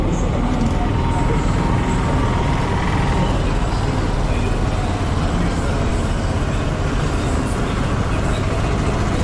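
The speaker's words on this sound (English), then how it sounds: "On the left, you can see the local public transport bus, an affordable and reliable travel option relied upon by everyday people." A local public transport bus moving through road traffic in Kerala, heard as a loud, steady engine rumble and roadway roar that fills the whole stretch without a break.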